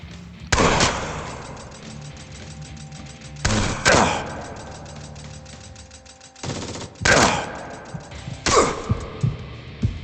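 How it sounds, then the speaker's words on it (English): Chain gun fire from hellish commandos in the game Jupiter Hell, several loud bursts of rapid automatic shots separated by short pauses, close and harsh over a low game hum. "I got myself some hellish commandos with chain guns."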